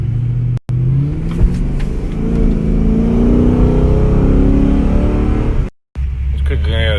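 A cammed 2000 HSV Grange with a big camshaft and 3700 converter, its V8 engine idling loud and close in a lumpy, choppy rumble that briefly cuts out twice, with a rising rev at the end.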